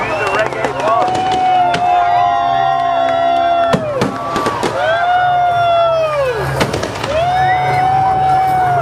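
About 500 fireworks set off from a pontoon for a reggae bar's 23rd birthday party in Thailand; repeated rising whistles and sharp pops over a steady crowd murmur, with voices talking nearby.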